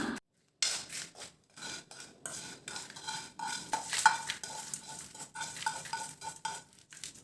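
Roasted black urad dal and other idli powder ingredients stirred in a pan, with continuous dry scraping and occasional metallic clinks of a utensil against the pan.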